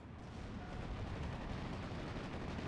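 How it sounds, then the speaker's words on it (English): Main cannon of a Crocodile flame tank firing in a WWII strategy video game, a loud booming blast with rumbling, sustained low-end roar. "Stroke goes down, courtesy of the crocodile's main cannon."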